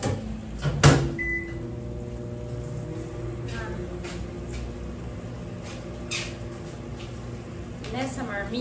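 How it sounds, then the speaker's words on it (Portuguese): A microwave oven heating packed food in a home kitchen hums steadily for several seconds after a door thud and beep, with faint clicks and light clatter over the drone. "E vou esquentar minhas trouxinhas no micro-ondas."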